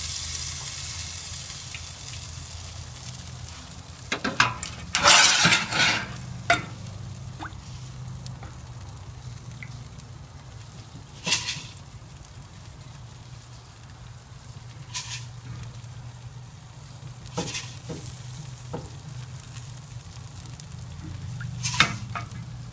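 Fajita meat sizzles steadily on a grill over East Texas pecan wood, with a low crackle underneath and occasional louder hisses and scrapes as the pieces are flipped.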